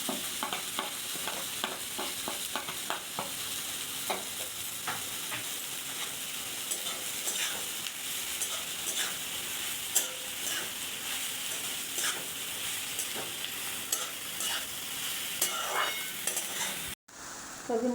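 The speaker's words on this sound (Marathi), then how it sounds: "गाजर घालून घेऊया बटरमध्ये आणि पत्तागोबी" Carrots and shredded cabbage sizzle in butter in a pan while being stirred for momo filling, a steady frying hiss punctuated by utensil scrapes and clicks, ending with a brief dropout.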